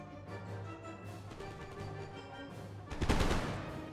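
Musket volleys crackle in an Empire: Total War battle, heard fairly faint over a humming background, then a louder, rough burst of massed fire near the end.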